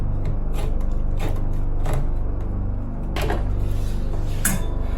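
Sliced canned potatoes mashed in a pan during microwave cooking, with repeated scraping and clattering knocks of a utensil against the pan, steady and close, with no talk.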